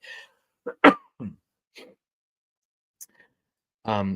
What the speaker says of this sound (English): Hang on, I'm going to do a quick cough